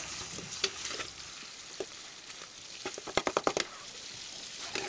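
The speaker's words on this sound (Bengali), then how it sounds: "পাঙ্গাস মাছের পেটে যে তেলগুলা ছিল তা কড়াইতে দিয়ে নেড়ে চেড়ে নিব।" Pangas fish belly fat fries in a wok with a steady hissing sizzle, punctuated by a quick run of spatula scrapes and knocks against the pan.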